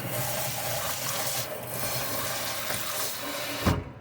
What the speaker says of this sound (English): Wash that. All the oil off the sponge.